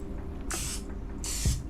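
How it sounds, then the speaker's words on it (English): Pan cooking oil is sprayed onto a takoyaki hot plate in two short, hissing aerosol bursts about three-quarters of a second apart. The spray is close and crisp over a low kitchen hum, and no one talks. "First, spray some pan cooking oil."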